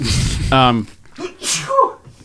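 A single sharp sneeze from a person indoors, short and loud, amid conversational voices and brief vocal sounds around it.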